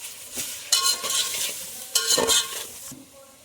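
Tomatoes, green chillies, turmeric, chilli, coriander, salt and garam masala fry in a pan, with a soft steady sizzle punctuated by two loud bursts of stirring and scraping close by, no talking.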